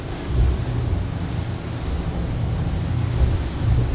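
A Riviera 4300 Sports Express motorboat's rushing hull and churning water roar steadily as it runs fast through waves, with wind buffeting the microphone and no voices.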